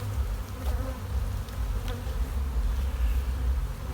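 Honeybees drone steadily inside a full hive box, a dense, continuous low buzz that holds close and even throughout with no voices over it.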